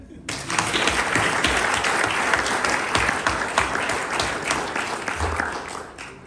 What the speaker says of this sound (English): let's have a round of applause for Francis Ouimet